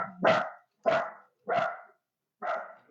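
A dog barks four times in a steady, evenly spaced series, each bark fairly loud and close, with silence between them and no talk.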